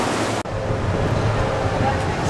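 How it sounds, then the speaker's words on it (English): Close-up roar of river rapids along a riverwalk in Estes Park, Colorado, a steady broadband rush of churning water that fills the clip, with a brief dropout near the start. "close-up view of the roaring rapids"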